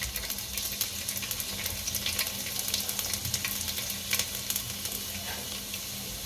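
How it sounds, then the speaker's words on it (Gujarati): Small garlic cloves frying in hot oil in a home kitchen, a steady close sizzle with faint crackles and occasional stirring, no voices. "આપણું તેલ આવી ગયું છે તો આમાં લસણની કળી નાખશું."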